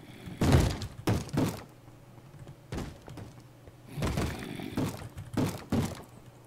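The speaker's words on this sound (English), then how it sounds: "I could just hear zombies destroying the place everywhere" Repeated heavy thuds and crunching breaking sounds from zombies smashing through a Minecraft stronghold, coming in irregular bursts of two or three impacts with brief quiet gaps between them.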